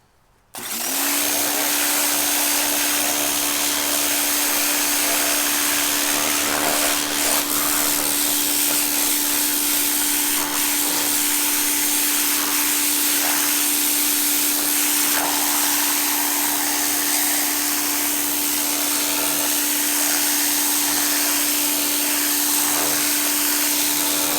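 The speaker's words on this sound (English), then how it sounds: "I've got a 2000 PSI Greenworks power washer. It runs on cord." A corded Greenworks 2000 PSI electric power washer with a turbo tip starts abruptly and runs as a loud, steady, continuous motor whine with spray hiss, close by and uninterrupted.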